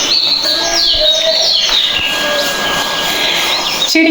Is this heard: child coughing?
no